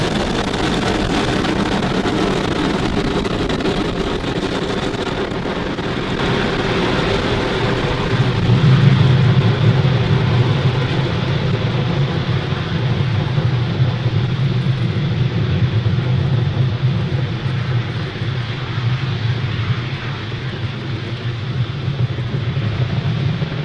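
Falcon 9 rocket lifting off from Pad 40 at Cape Canaveral, a continuous, loud, broad roar with deep rumble that swells midway and holds steady, with no talk.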